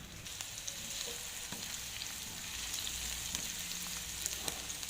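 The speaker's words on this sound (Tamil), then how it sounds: "ஒரு தவாவில் வந்து எண்ணெய் ஊற்றி அதில் வெங்காயத்தை போட்டு நல்லா ஃப்ரை எடுக்கணும்" Onions fry in oil on a tawa, giving a steady, dense sizzle close-up with light stirring and faint crackles throughout and no voices.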